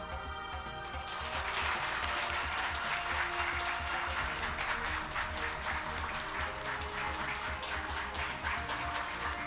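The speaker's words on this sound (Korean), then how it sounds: "여러분 큰 박수로 축하해 주시기 바랍니다." An audience applauds at an award ceremony, the Samsung Ho-Am Prize presentation. The clapping swells quickly from quiet into dense, sustained applause that lasts for about nine seconds.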